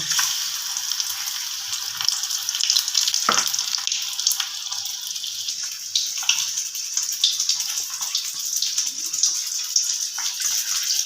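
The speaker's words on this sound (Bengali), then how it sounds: "পুরো ব্যাটারটাই যেন মাছের গায়ে ধরে তেলের মধ্যে ছেড়ে দেব" Battered fish frying in hot oil, a dense, continuous close sizzle and crackle with small popping bursts throughout, fairly loud and with no voices.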